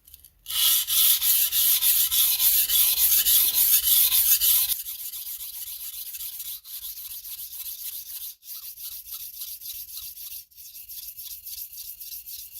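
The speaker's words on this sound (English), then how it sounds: "the knife stays at about 45 degrees to the stone, whatever portion of edge I'm sharpening" A Japanese gyuto knife scrapes across a whetstone, with a loud steady rasp of continuous rubbing first, then quieter, lighter strokes in a slower rhythm, without talk.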